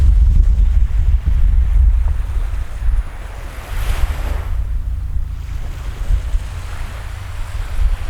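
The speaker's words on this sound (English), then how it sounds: "Oh yeah, that's a really good gust." Strong wind buffets the microphone in loud, rough gusts over roaring surf, easing briefly before building up again.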